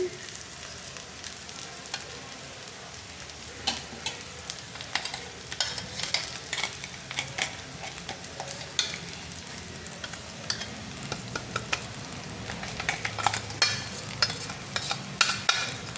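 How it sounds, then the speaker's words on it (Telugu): Okra fry being stirred with a ladle after ground fresh coconut is added, giving steady scraping and stirring over a soft continuous sizzle from the pan, close and moderately loud with no talking. "ఇలా వేసుకొని గంటతో మిక్స్ చేసుకోవాలి."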